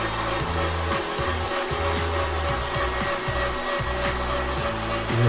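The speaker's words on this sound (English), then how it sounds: "I'm going to push it through the grinder." A meat grinder re-grinds burger patty meat to a thinner consistency, its motor whirring steadily and loudly with a rhythmic churning pulse about twice a second throughout.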